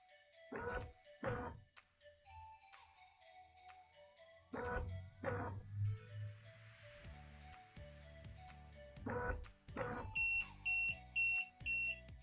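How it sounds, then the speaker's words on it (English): A battery roller blind motor whirs and clunks in several jolts during a factory reset, followed by a series of short, evenly spaced electronic beeps close by. "Hold the motor button and don't let go until you see the blind jolt 4 times and beep 4 times"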